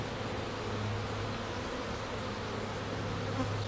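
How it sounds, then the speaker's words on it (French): Honeybees swarm around an opened hive frame being handled by a beekeeper, making a dense, continuous buzz that stays steady and close throughout, with no voices. "un autre cadre d'abeilles"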